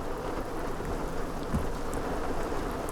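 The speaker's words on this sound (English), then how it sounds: "It's just raining pretty good." Steady rain pours down near open water on a misty morning, a dense, even hiss of drops close by with a low rumble of thunder underneath and no voices.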